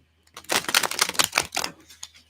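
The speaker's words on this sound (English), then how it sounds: "Let me shuffle a little more for Libra." Tarot cards being shuffled by hand, a fast run of crisp riffling clicks and flutters that lasts a couple of seconds, up close and with no talking over it.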